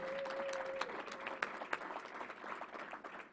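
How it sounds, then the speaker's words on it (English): Crowd at a press conference for the New York State Fair giving the fair director a round of applause, soft and distant steady clapping with a few sharper claps standing out. "We have to give him a round of applause"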